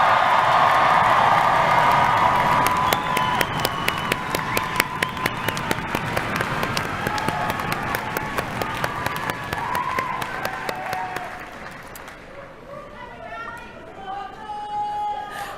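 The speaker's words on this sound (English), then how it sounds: "Wow, the rowdiest crowd of the day." A large graduation commencement crowd cheers and applauds loudly, dense clapping and shouting that gradually thins out and fades toward the end, leaving scattered voices and chatter.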